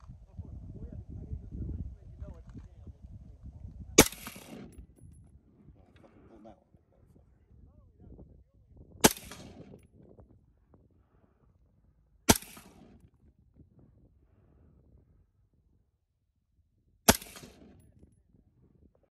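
Rifle shots from an MK12 SPR and a 16-inch LMT rifle at an outdoor range: four sharp, loud single reports spaced several seconds apart, with people talking quietly between them.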